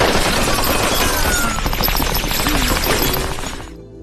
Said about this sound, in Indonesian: Pada akhirnya mereka saling baku tembak.